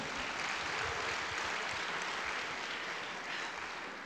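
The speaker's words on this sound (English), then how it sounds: "Give him another round of applause." A crowd applauds steadily, a dense wash of clapping that holds at an even level, then eases slightly toward the end.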